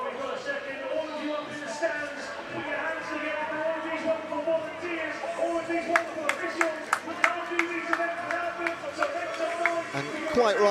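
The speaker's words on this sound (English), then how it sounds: "just a round of applause for our volunteers from the in-venue team" Crowd applause for volunteers rises at a university short-course swimming championship finals session, sharp claps emerging after about six seconds and building toward the end amid reverberant pool-hall murmur and chatter.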